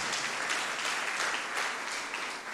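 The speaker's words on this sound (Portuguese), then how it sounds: "Então aplauda ao Senhor e glorifique o seu nome por isso." A church congregation claps steadily during a prayer service, dense and continuous applause filling the room at close range with no talk over it.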